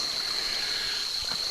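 Creek water flowing steadily outdoors, a continuous close rushing and trickling wash without any voices.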